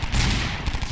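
Rapid bursts of gunfire in the video game Garry's Mod with customizable weapons, a dense, loud barrage of overlapping shots filling the moment with no talk.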